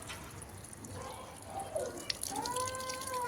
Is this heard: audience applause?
no